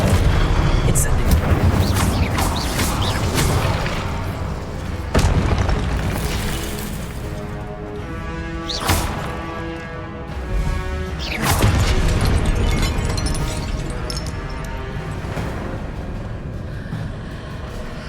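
Incendio fire spell cast in the Hogwarts Legacy video game, heard as loud booming bursts and whooshes layered over dense game music and effects, with several sharp impacts spaced across the clip.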